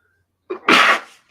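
A single sharp sneeze bursts out close by after a faint intake of breath, loud and brief, with a small trailing noise just after.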